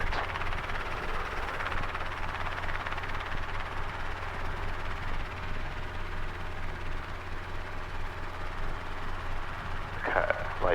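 Helicopter at takeoff on a student solo cross-country flight in Hawaii, heard as a steady droning rotor and engine hum from inside the cabin, fairly quiet and constant, with a brief crackle near the end.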